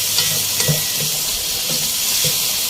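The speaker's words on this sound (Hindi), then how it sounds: "और इन सब चीज़ों को साथ में अच्छे से फ्राई करेंगे हम यहाँ।" Finely chopped onion frying in oil in a pan, a loud, dense hissing sizzle close up with rhythmic stirring scrapes every half second or so.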